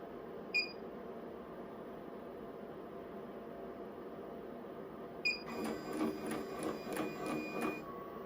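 An embroidery machine stitching the orange center of a sunflower key fob design, starting with a couple of beeps and then a steady, close mechanical whir with a rapid ticking needle rhythm, no talking.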